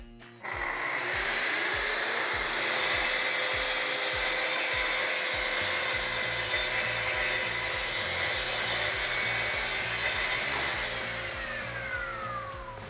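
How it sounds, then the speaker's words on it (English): A Festool TS55 track saw rips a cabinet panel, spinning up to a loud steady whine that holds for about ten seconds before the motor winds down, heard close and alone. "So now that we've got a good reference edge ripped with the TS55"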